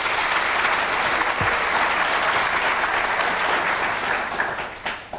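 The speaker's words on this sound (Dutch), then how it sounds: "Een applaus voor Chris van den Bussen." A studio audience claps for a contestant on a Belgian TV quiz show, a dense, loud and steady wash of applause that holds throughout and fades slightly at the very end.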